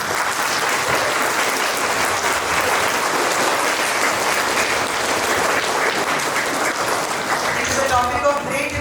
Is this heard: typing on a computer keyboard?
no